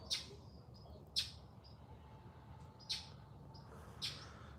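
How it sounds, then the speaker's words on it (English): Several short, bright bird chirps ring out at spaced intervals over a faint, quiet outdoor background, with no voices. "You're gonna miss the chirping of the birds."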